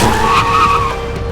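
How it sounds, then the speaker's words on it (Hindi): A car violently skids as the handbrake is yanked hard on a road between ravines, producing a loud, close tire screech with engine roar that lasts just over a second, with no talk, in a dramatized ghost story. "उनकी गाड़ी बहुत भयंकर तरीके से स्किड खाती है"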